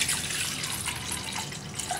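Water poured from a glass into a cooking pot for barley water, a soft continuous splashing trickle lasting a couple of seconds, fairly quiet and close.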